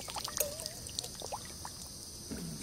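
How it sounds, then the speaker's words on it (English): Water is poured in short splashy trickles into a camping water filtration system, close and fairly quiet, with small gurgles and drips and no talking. "I'm gonna pour a little bit into there."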